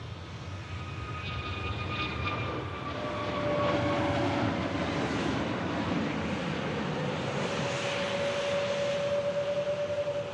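A Turkish Airlines Airbus A321neo at Manchester Airport, its engines producing a broad, steady roar that builds slightly and holds throughout, with thin whining tones drifting across it and no voices.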